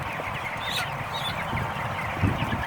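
Geese at feeding time honk in a close, busy chorus of overlapping calls over a steady background bustle, with a louder honk near the end.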